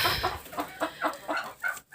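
Laying hens in a backyard coop give a run of repeated, rhythmic clucks close by, steady and moderately loud with no talking.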